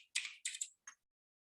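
Several quick bursts of keystrokes on a computer keyboard, close and quiet, in three short clusters with brief gaps, no talk.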